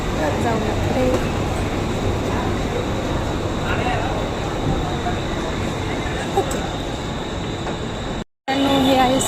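A train pulls into Mumbai CST station, a steady loud rumble of wheels and carriages filling the platform with faint crowd babble beneath, broken by a brief dropout near the end.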